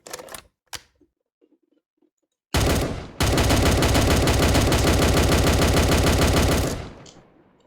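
A St. Étienne Mle 1907 machine gun fires in a video game: a few isolated shots, then a sustained, loud, rapid automatic burst lasting several seconds before abruptly stopping.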